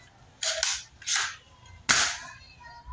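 Three sharp snapping pops from a toy pellet shotgun, the first a quick double crack, spaced about half a second to a second apart, close and fairly loud.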